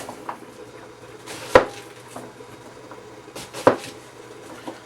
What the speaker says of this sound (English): you come across with your knife and go the other way